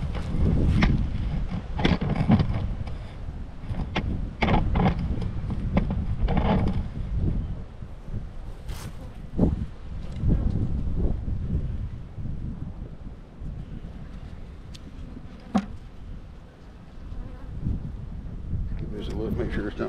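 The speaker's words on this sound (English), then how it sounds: "And it'd be windy today." Gusty wind buffets a microphone outdoors at a beehive in a hilltop apiary, a low rumbling roar that rises and falls throughout while someone talks over it.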